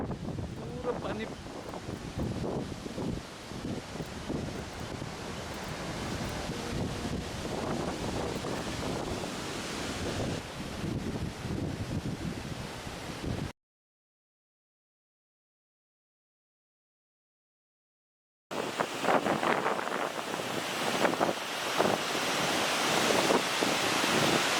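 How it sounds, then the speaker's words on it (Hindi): Nuranang (Jang) Waterfall near Tawang, Arunachal Pradesh, crashing down from above during heavy rain: a loud, steady broadband roar with wind buffeting the microphone, broken by a few seconds of total silence before the rushing resumes. "पूरा पानी गिर रहा है ऊपर से,"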